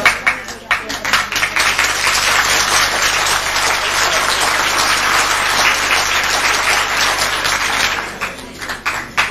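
Guests at a 1992 retirement party for Dr. Paolo Scaduto in Siculiana burst into loud, close applause. Thick clapping runs almost throughout, with voices mixed into the crowd noise before it tapers off near the end.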